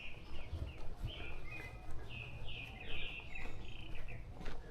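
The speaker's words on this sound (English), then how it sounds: "Oh, I can hear Solboangi just in the distance." A northern boobook calls in a Korean forest, a faint repeated two-note hoot in short phrases under soft birdsong and quiet ambient noise.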